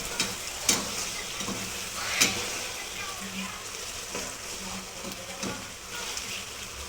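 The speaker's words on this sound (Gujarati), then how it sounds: "ડુંગળીને થોડીક ફ્રાય થવા દેવાની" Onions fry in a pan with a steady, close sizzle and a few sharp clinks of a utensil against the pan.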